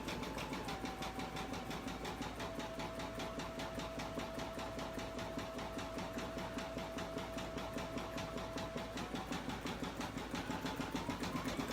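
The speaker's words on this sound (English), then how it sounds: "Let's see how well that stitches that leaf." Embroidery machine stitching a leaf design into hooped fabric with stabilizer, a fast steady mechanical chatter of rapid needle strokes under a faint whine, close and continuous throughout.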